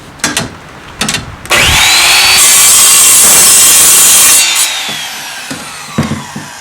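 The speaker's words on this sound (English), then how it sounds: "Now we'll cut through a piece of black pipe." An Evolution Rage saw cuts through a piece of black pipe: a loud, close, high-pitched whine and grinding rasp lasting about three seconds, between brief clanks of handling before and after.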